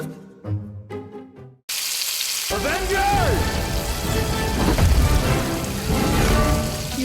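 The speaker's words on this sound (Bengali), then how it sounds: "চিকেন গুলো আগে ভেজে নিব। একটা চিকেন দিয়ে দিই।" A voice is heard briefly, then chicken pieces drop into hot oil in a pan and erupt into a loud, close, sustained frying hiss with spitting crackles that holds steady to the end.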